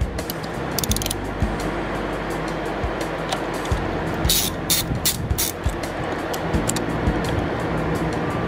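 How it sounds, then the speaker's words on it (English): A ratchet loosens the brake caliper bolts on a Yamaha FZ6R motorcycle, producing rapid clicking bursts and metallic ticks in uneven runs, close and clear with no talking. "we'll break loose the caliper bolts"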